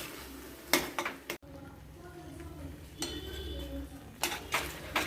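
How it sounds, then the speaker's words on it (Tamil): A spoon clinks and scrapes against a pan while wheat rava kesari is stirred, giving a few sharp metallic knocks followed by softer stirring. "கிளறிடலாம்."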